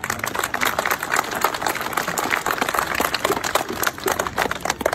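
A crowd at a Catholic religious celebration in San Juan Teitipac claps, giving dense and steady applause that is loud and close and lasts for several seconds with no voices above it.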